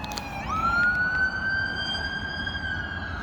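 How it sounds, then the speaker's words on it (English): An ambulance siren wails through downtown Chicago near the Streeterville hospitals, rising in a few seconds into a steady, loud tone with harmonics over a constant roar of city traffic. "That's where you hear a lot of ambulances."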